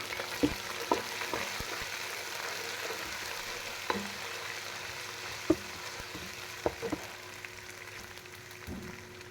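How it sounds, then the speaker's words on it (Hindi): Steady sizzling of onions and ginger garlic paste frying in a pan, with occasional clicks and stirring scrapes; no talking. "उसको अच्छे से फ्राई कर लेंगे प्याजों के साथ ही।"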